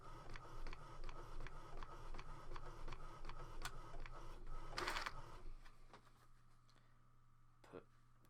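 A cheap home printer, about £40 and in use since 2017, runs a drawing job with a steady rhythmic clatter of print-head passes, fairly close, briefly interrupted by a sharp rustle before settling into a lower hum.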